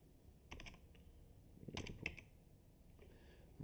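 Fingers type on a computer keyboard in brief bursts, a few quick clusters of soft key clicks, quiet and close with pauses between.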